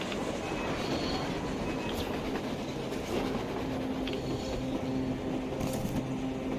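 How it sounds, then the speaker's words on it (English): A train rolling on rails in the Metro Exodus video game, a steady rumbling run with faint clickety-clack, holding at a constant level throughout with no talk. "A damn train on the surface!"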